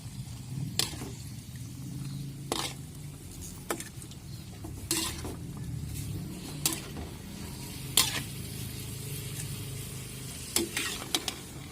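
Squid cooks in a sautéed sambal spice paste in a pan, with a low steady sizzle and periodic sharp spatula scrapes and clacks spaced a second or two apart as it is stirred.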